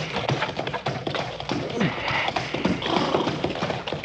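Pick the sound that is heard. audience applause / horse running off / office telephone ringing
horse running off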